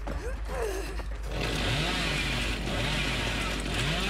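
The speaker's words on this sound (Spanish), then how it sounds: "Se me va la motosierra, se me va." A chainsaw revs in the video game Dead by Daylight: a steady, loud motor drone kicks in partway through, with repeated rising pitch sweeps as the throttle climbs and drops.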